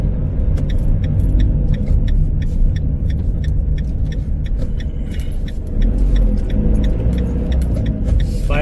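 Car pulling away from a motorway service area and heading onto the road in sunny weather: a steady, loud low engine and road rumble inside the cabin, with light rattles and clicks over the top and no talking.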